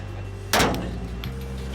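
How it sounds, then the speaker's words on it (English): A single loud metallic clank and creak as heavy truck trailer doors swing open, followed by a fainter knock and low rumbling hum. "We're getting ready to swing these doors open"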